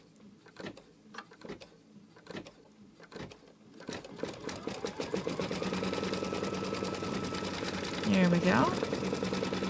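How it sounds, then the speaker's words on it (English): An embroidery machine tacks down a piece of green fabric with green thread, starting with scattered mechanical clicks and then settling into rapid, even stitching, with a brief spoken remark early on and a voice rising near the end. "it's going to tack down this green piece of fabric using the same green"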